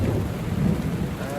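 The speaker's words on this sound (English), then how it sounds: "when there's an awful lot of thunder about" Thunder rumbles low under heavy, tipping-down evening rain in an English garden, a dense steady hiss of rain on surfaces with a deep rolling boom, fairly close and unbroken.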